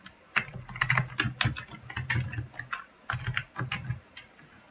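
Rapid typing on a computer keyboard, a close, busy run of uneven clicks and key strikes with brief pauses, no voices.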